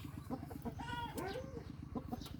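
A fighting rooster at a gamecock farm clucks in quick, repeated low pulses with a brief rising squawk in the middle, faint and steady against a quiet background.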